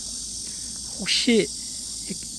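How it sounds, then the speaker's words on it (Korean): A steady high drone of cicadas hums continuously in the background on rural hillside land in Yangpyeong, South Korea, while someone briefly speaks. "매미 소리 들리나요?"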